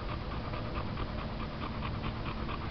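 A young male boxer dog, tired after exertion, pants steadily and rapidly close up, each quick breath repeating in an even rhythm with no talking.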